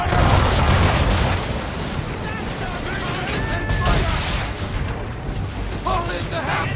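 Ship broadside cannon fire in the Assassin's Creed III video game, dull booms scattered through a dense, loud battle din of wind, waves and shouting crew voices.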